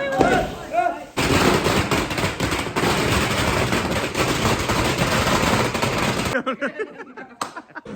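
A rapid string of Diwali firecrackers bursts out, a loud dense crackling that runs for several seconds before breaking into a few scattered pops.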